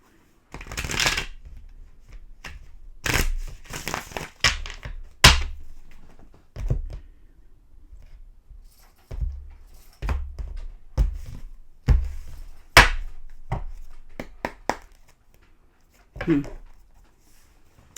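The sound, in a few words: shuffling tarot cards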